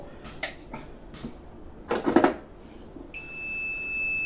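A few soft clicks and knocks, then a steady high-pitched electronic beep alarm from a Kent RO water purifier that starts abruptly and holds on continuously to the end.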